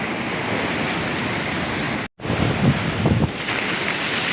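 Large ocean waves wash onto Pantai Dlodo Rejosari, a beach of mixed black and white sand. A continuous roaring surf wash is heard with wind noise across the mic, a brief dropout midway, and then a swelling rush.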